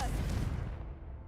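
Confringo fire spell from the game Hogwarts Legacy going off in a single loud, booming blast that rolls away into a fading rumble.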